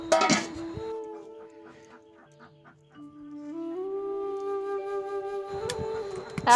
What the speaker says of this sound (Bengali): এই মুরগিগুলো এই যে এগের খাবার দিতেছে